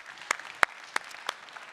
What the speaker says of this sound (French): Je propose de nous applaudir tous ensemble pour se souhaiter la bienvenue.